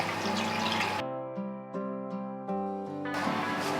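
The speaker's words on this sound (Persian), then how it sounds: "من اول خمیر مایه رو میریزم و بعد نصف لیوان آب ولرم دارم و یک لیوانم شیر گرم" Warm water poured for bread dough, a liquid stream splashing into a container, with the pour stopping briefly between and giving way to a few soft ringing knocks before pouring resumes.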